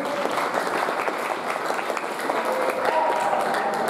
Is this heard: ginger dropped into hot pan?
no